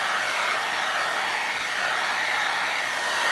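A hair dryer blows steadily and close-up over a fresh coat of crackle paint on a small craft project, a constant even whoosh with no talking.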